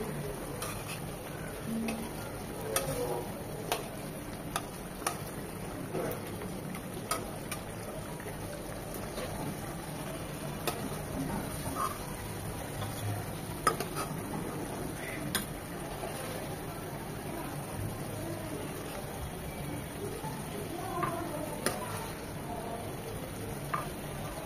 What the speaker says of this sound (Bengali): জাস্ট 3 থেকে 4 মিনিট চিংড়িগুলো কষিয়ে নেব।